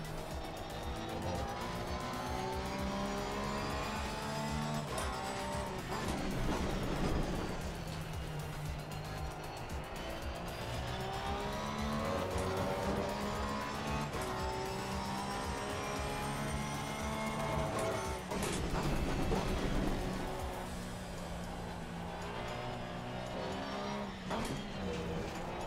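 Race cars in the game Assetto Corsa Competizione, with a Porsche 911 GT3 at Paul Ricard: engines drone and rise through gear changes for the whole stretch, with cars running closely together and a faint voice at times.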